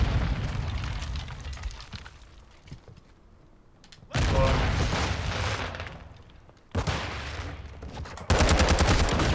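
Gunfire in a 6v6 Call of Duty: Modern Warfare match comes in several loud bursts of rapid shots and booms, with quieter rumbling stretches between them.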